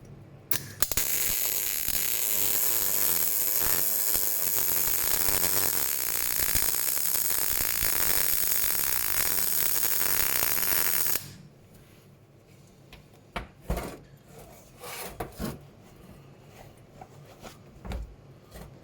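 A MIG-MAG welder lays a short bead at high intensity, giving a loud, steady crackling hiss for about ten seconds that stops abruptly, followed by a few faint, scattered clanks in near silence.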